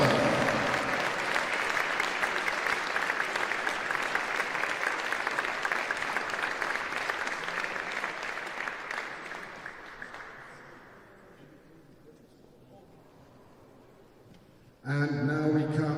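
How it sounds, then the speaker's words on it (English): A crowd at a goalball tournament awards ceremony claps steadily and loudly for about ten seconds, then the applause thins and fades out before a voice starts speaking. "Big round of applause"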